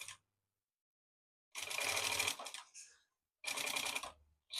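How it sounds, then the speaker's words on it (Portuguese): A sewing machine stitching a small fabric maternity organizer bag, running in two close, loud bursts of rapid mechanical whirring with a short silent pause between them. "Seguimos na costurinha até o final."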